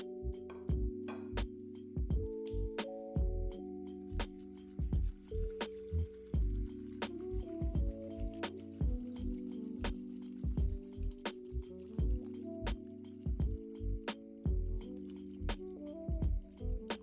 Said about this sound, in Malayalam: ഇനി ഈ കഷ്ണങ്ങളെല്ലാം ഒരു പാത്രത്തിലിട്ട് വെള്ളം ഒഴിച്ച് നന്നായി കഴുകിയെടുക്കണം.